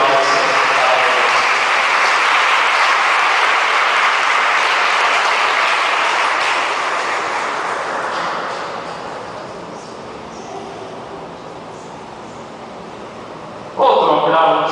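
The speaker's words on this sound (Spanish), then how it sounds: "un fuerte aplauso" A church congregation at a Sunday Lenten Mass breaks into loud, sustained applause that gradually tapers off into a quieter room, with a sudden burst of sound at the very end.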